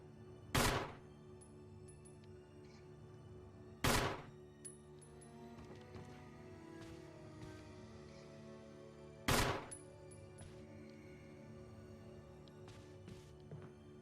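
Three sharp gunshots ring out in Resident Evil Remake while a spider is targeted, each a loud, isolated crack spaced several seconds apart over a quiet ambient hum.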